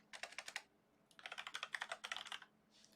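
Close, quiet typing on a computer keyboard in two quick bursts of rapid key clicks separated by a brief pause, with no speech.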